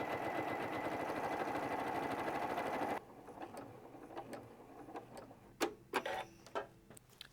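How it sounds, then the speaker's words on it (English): A Janome 9410 sewing machine stitches quilt pieces in a steady, fast whir for about three seconds, then stops, leaving quiet handling clicks and soft taps of fabric being moved. "All I have to do is just start sewing."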